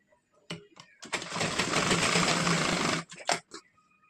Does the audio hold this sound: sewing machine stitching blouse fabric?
yes